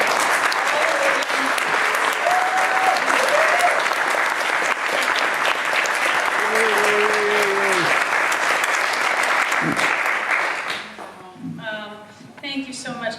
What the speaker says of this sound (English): Could we give another round of applause for all of the writers